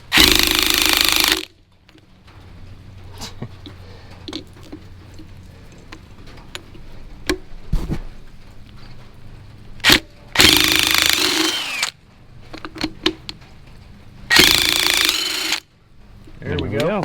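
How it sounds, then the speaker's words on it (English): Three loud, sharp bursts from an impact wrench spin off a rear shock nut on a 2012 Chevy Cruze Eco, separated by quieter shop sounds with scattered clicks and taps. "hit it with the impact, and she should spin right off"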